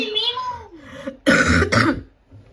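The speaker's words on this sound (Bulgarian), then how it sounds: "Извините ме, че ви кашлям, просто какво да направя" A close, loud pair of coughs breaks in after a young voice speaking in Bulgarian, each cough a sharp noisy burst, with speech before and a quieter murmur trailing after.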